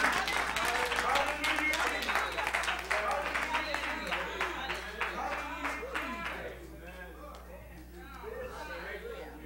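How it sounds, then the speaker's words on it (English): A church congregation at a Baptist service claps in praise, a dense, sustained burst of many hands that gradually thins and softens, with voices talking and calling out beneath it. "Come on, give him a hand clap of praise."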